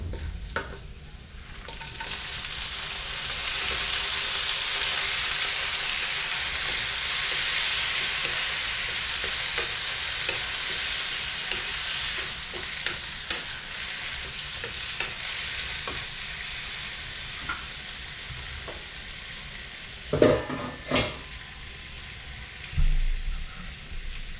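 Shrimp for adobong hipon sizzling steadily in a hot pan while being stirred, a continuous loud frying hiss with scraping stirs and a few sharper clatters near the end.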